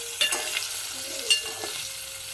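Paneer pieces roast in a hot pan for paneer tikka, giving a short, even sizzle close by with a few light scraping and stirring taps.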